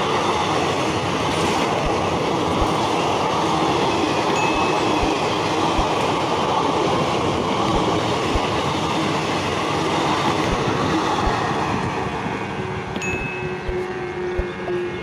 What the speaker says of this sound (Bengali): তো এই হলো ব্ল্যাক ডায়মন্ড এক্সপ্রেস, খুব ভোরবেলায় চলে যায় আর স্পিড দেখে নাও।